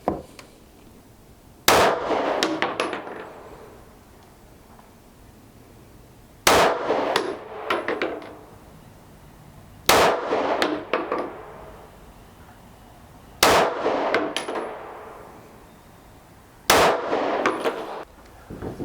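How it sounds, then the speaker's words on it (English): Five 9mm shots from a Stoeger STR9c compact pistol at a range, loud sharp reports spaced several seconds apart, each with a clanging ring and echoing tail. "there's 5 shots"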